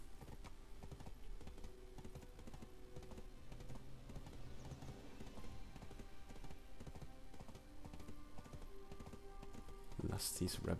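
Horse hooves clip-clopping in the online game Black Desert Online, a steady rapid patter of hoofbeats running under continuous game sounds and talk, ending with a brief bright burst.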